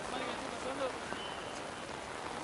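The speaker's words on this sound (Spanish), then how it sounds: "Para mí, por cómo está lloviendo, va a llover toda la noche." Rain falls steadily outdoors on a wet night around a football match, a soft, even patter of drops with faint background murmur.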